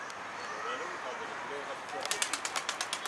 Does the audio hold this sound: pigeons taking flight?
yes